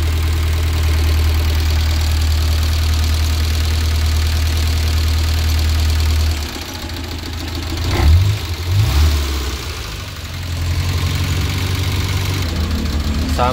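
Suzuki Carry engine idling after starting during a radiator coolant flush, a loud low steady rumble near the mic that shifts partway through, with a couple of brief revs, under occasional talk.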